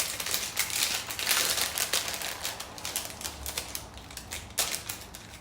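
Plastic packaging from a Temu haul crinkles and rustles while being unboxed, a steady close-up stream of crackly, papery bursts with a few louder crunches.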